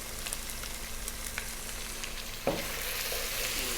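Tomato paste seasoned with dried thyme and oregano fries over high heat in a beef vegetable stew pot, giving a steady, soft sizzle and crackle throughout with one brief stirring clatter partway through; no one speaks.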